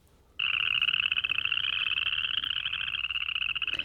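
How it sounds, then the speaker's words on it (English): A chorus frog at Shaw Nature Reserve, Missouri, starts abruptly into a loud, rapid, continuous trilling call that holds steady and close for several seconds. "So again, that's the chorus frog."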